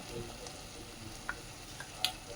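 Gram flour roasting and being stirred in a pan, a soft steady sizzle with faint scraping and a few small clicks of the spoon.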